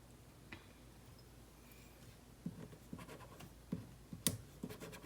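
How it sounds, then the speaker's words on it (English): Pen drawing a heart outline on a piece of metal for hammered earrings: quiet, close scratchy strokes in short bursts, with small ticks and taps between them against a faint background hiss. "Just going to draw my heart in the center."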